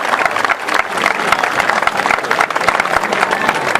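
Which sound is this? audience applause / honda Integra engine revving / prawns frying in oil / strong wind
audience applause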